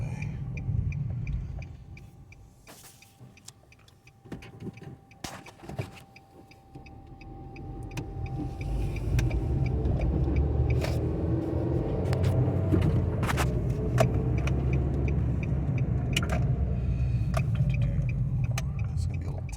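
Nissan Versa engine pulling through first gear, a steady low rumble with road noise that swells and holds louder through the second half.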